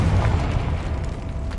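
A Confringo spell blast in Hogwarts Legacy bursts as a loud, booming explosion with a deep low rumble that holds steady through the moment, with no talking over it.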